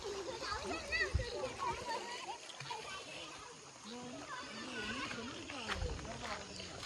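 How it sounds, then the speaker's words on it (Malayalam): Suruli waterfall in Tamil Nadu rushes and splashes in a steady, moderately distant wash of water, with people talking nearby over it. "അടിപൊളി വാട്ടർഫോൾസ് ആണല്ലോ."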